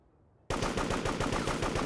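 A droid fires its gun in the video game Devastation: after a short quiet lead-in, a sudden burst of rapid automatic gunfire rattles on continuously at high volume until the end.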